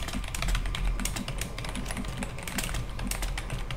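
Loud, rapid typing on a computer keyboard, a dense run of sharp key clacks hammered out at double pace, close and alone with no voices.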